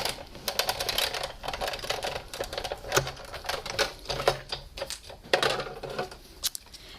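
A die cutting machine runs cardstock through on a cutting plate with a thin die adapter, giving a busy, rattling stream of clicks and mechanical knocks, close and fairly loud, with a few sharper taps throughout and no talking.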